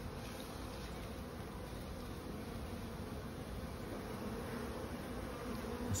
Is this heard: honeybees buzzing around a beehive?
yes